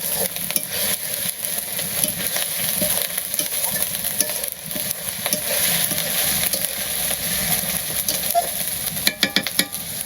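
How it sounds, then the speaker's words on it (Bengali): Onions frying and being stirred in a pan over a clay wood-fired village stove for chicken biryani, with a steady loud sizzle and scraping stir strokes throughout and a burst of sharper clatters near the end. "আমার পেঁয়াজ একটু ভালো ভাজা করলাম"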